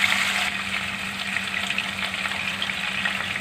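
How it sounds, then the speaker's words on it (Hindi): Chicken pieces frying in hot oil for a yogurt and gram flour chicken kadhi, giving a steady, close, even sizzle and crackle that runs unbroken through the whole short stretch with no talking. "ये ऑयल में चिकन हमको कुछ देर फ्राई करना है।"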